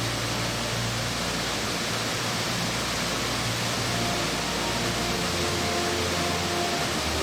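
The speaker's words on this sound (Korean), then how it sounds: "테노리오 국립공원의 우림을 지나 리오 셀레스테 폭포에 도착했다." Rio Celeste waterfall in the rainforest of Tenorio National Park, Costa Rica, gives a loud, steady, broadband roar of falling water that stays constant and unbroken throughout.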